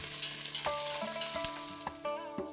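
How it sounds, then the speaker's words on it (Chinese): Whole spices, larger pieces first and then small seeds, stir-fry in a wok over low heat, making a close, continuous sizzle broken by scraping stirs, with faint steady tones beneath. "先加入个头大一些的香料，再下小颗粒的香料，这样就不容易炒糊"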